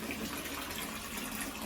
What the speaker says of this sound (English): filling my water up, my bathtub.